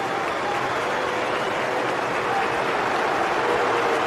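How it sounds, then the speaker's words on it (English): Dense stadium crowd roar from a FIFA World Cup 2026 video game match between England and Senegal, a steady, loud wash of cheering and applause filling the whole span with no break. "And Bellingham whips up the crowd."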